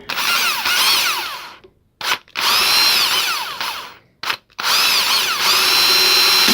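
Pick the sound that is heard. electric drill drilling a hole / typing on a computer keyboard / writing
electric drill drilling a hole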